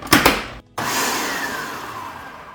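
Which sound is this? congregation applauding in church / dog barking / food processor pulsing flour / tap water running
food processor pulsing flour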